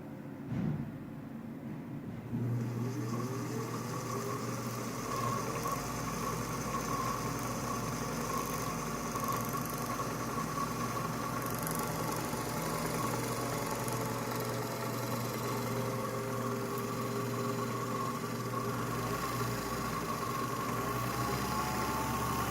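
Singer 201-2 sewing machine motor winding a bobbin, starting up after a short quiet moment and then running as a steady close hum with a faint whirring whine.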